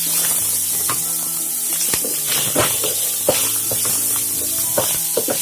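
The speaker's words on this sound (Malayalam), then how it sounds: "എന്നിട്ട് നന്നായിട്ട് വഴറ്റിയെടുക്കാം." Onion and other ingredients sauté in hot oil in a pan for Kerala fish molee, giving a steady close sizzle broken by frequent sharp clinks and scrapes of a spoon stirring, with no talking.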